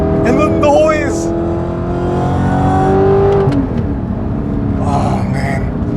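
A loud, rumbling straight-pipe Audi R8 V8 engine revs and drones steadily up close, with brief bursts of talk over it.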